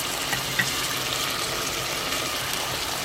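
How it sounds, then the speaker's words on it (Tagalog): Water gushes steadily into a pot of pork belly and ribs for sinigang, a continuous broadband pour heard close up, alone and unbroken for a few seconds. "Dagdagan pa natin yung water"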